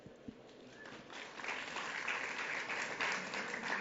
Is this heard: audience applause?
yes